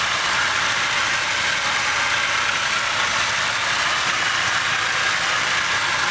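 2006 Dodge Durango Limited with a 5.7 liter HEMI V8 idling, a steady loud unbroken rumble and hiss heard close up throughout, with no talk over it.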